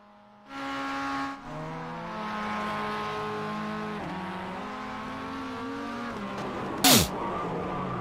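Mazda MX-5 Cup spec race cars lapping Lime Rock in the iRacing sim, engine note steadily droning and shifting pitch with a brief sharp tire squeal near the end, no voices.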